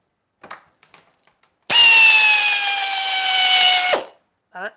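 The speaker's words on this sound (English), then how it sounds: "And I've got my air drill." Pneumatic air drill driving screws into boards, a sustained high whirring tone with a slight falling pitch for about two seconds, loud and close, with brief faint voice fragments before and after.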